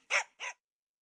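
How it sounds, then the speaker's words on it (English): A dog gives two short, clear barks in quick succession, close and fairly loud, followed by silence. "Look at the dog. It can run."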